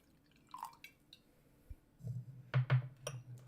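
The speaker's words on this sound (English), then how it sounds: "Totally just poured more Old Crow into the glass than I should have." Old Crow bourbon whiskey poured into a glass, heard as a few quiet trickles and drips, with louder splashes late on, close and soft with no talk.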